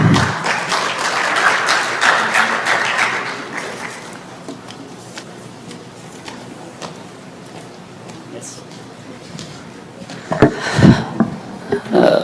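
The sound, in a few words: audience applause for the department head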